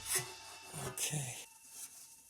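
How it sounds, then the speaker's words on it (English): An old oil pan gasket is peeled and scraped off a Jeep, giving close rough rubbing and rasping strokes in a few uneven bursts that fade to quiet near the end. "let's just peel this old gasket off"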